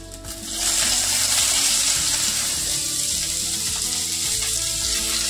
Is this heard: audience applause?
no